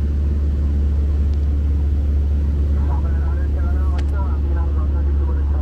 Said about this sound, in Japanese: 旋回し、西側から着陸態勢に入ります